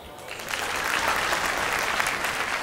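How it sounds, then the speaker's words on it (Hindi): Sustained applause from an audience at a World Vitiligo Day event, steady clapping building after a brief quieter start and holding at full level throughout, with no speech over it. "एक बार मैम के लिए तालियां"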